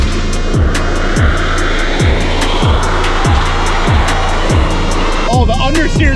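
A modded Nissan R34 Skyline accelerates hard, its loud engine climbing through a rapid series of rising revs and gear changes roughly every half second, with a voice exclaiming briefly near the end.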